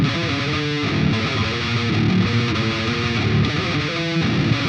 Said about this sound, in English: So if I add the EQ, then it sounds like this.